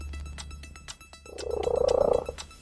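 A cat's soft, rhythmic rumbling purr rises in the second half, close and steady, after a quieter stretch with faint background noise.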